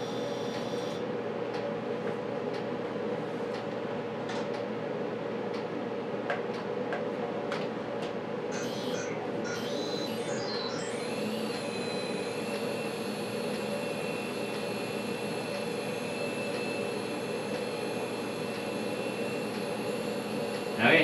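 A Litehawk 6996 RC helicopter flies indoors in a gym, giving a steady, close whirring rotor drone with a high motor whine that shifts and settles partway through.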